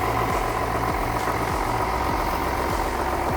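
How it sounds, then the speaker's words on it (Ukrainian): A John Deere 6610 frame tractor of 114 hp runs cold at idle, its steady diesel rumble carrying a regular low knocking beat throughout, loud and close with no talk. "Так на холодну працює цей джондір."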